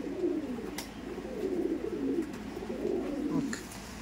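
Kaldom pigeons coo in soft, low, rolling phrases, close by and repeating throughout, with faint background noise.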